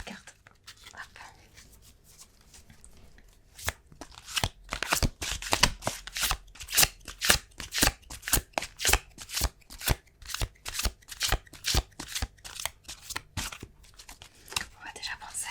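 Tarot cards are shuffled up close for a reading, a fast run of crisp riffling slaps in steady rhythm that grows louder and denser, with soft speech in the background.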